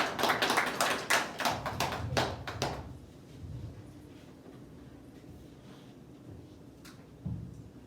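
A church congregation claps warmly to welcome a singer for a special offering song, a dense burst of applause that fades out after about three seconds into quiet room tone with a few faint knocks.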